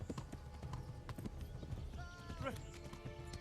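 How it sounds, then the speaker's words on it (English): Rapid, rhythmic galloping hoofbeats of a horse in the video game Kingdom Come, steady and fairly close, with voices talking over them. "I feel like I've been riding this horse forever."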